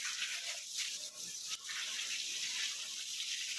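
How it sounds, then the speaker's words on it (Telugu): A garden hose sprays water steadily over a motorbike being washed, a soft continuous hiss and gush at low level with small dips as the stream shifts. "డాడీ అయితే బండిని కడుగుతున్నాడు పైప్తో"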